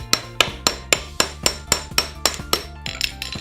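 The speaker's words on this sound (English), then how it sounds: "putting them into one end here, and then of course the hammer. Gently give it a little tap." A hammer taps a steel bolster driven under the nailed slats of a wooden pallet, about a dozen sharp, evenly spaced metallic strikes ringing close and clear with no talk.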